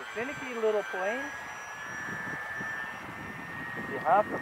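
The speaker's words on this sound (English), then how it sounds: "Finicky little plane." A Wittman Buttercup light airplane drones steadily in flight with its engine note held even throughout, while a voice speaks briefly near the start and again near the end.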